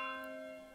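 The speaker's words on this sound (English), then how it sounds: "Ringing the dinner bell." Dinner bell in the medieval city-building game Manor Lords, a single resonant struck bell tone ringing out and slowly decaying, heard alone and fairly faint.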